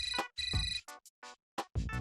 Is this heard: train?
no